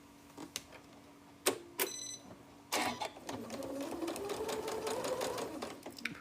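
A sewing machine stitches a label onto a Phoenix Area Quilters Association quilt, starting with a few short bursts and clicks, then settling into a longer, steady whirring run, close and fairly quiet.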